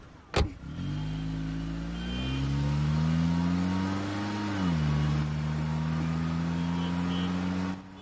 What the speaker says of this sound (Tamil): டிரைவர் வண்டி எடுப்பா.